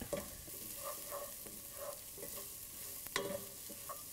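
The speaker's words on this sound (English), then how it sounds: "we will saute these veggies over medium heat until they become soft and translucent" Veggies and minced garlic sauté over medium heat with a steady low sizzle, punctuated by regular scraping strokes of a spatula against the pan and one sharper clack near the end.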